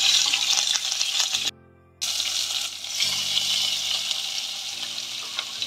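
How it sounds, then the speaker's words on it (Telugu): Curry leaves and dried red chillies fry in a hot oil tempering with lentils for ragi upma, a loud close hiss and crackle that cuts out briefly, then resumes steadily. "అలానే రెడ్ చిల్లీ కూడా వేసుకొని ఫ్రై చేసుకోవాలి."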